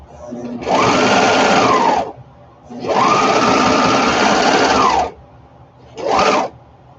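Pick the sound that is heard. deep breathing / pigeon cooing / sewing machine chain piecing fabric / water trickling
sewing machine chain piecing fabric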